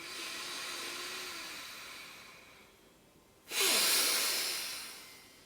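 Sharp, forceful yogic inhalation drawn in through the right nostril, a loud rushing hiss starting abruptly near the end after a quieter exhale, close and alone without talk.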